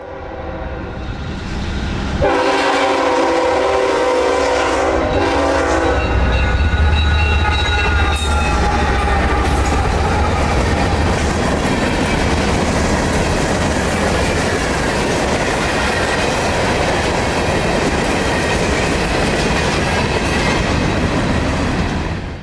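A train passes a road crossing with its throttle cranked up. A long horn blast rings out at first, then the loud, steady rumble of the engine and the rolling clatter of the cars fill the rest, with no talking.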